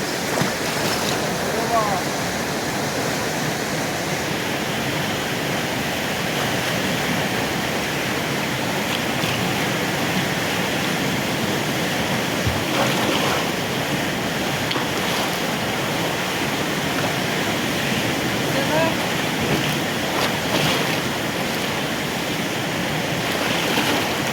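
The Alaknanda river rushes past near Badrinath, a loud, continuous roar of churning water that holds steady throughout with no pauses.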